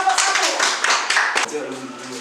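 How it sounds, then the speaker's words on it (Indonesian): Classroom group of students clapping for a presenting group in an Indonesian vocational school, a dense burst of hand claps that fades over about two seconds, with a little talk underneath. "coba kita tepuk tangan untuk kelompok"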